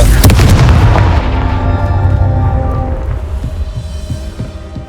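Fiery Confringo spell blast in the Hogwarts Legacy video game: a loud, booming explosive burst right at the start, then a long ringing, rumbling decay with faint tonal magical shimmer.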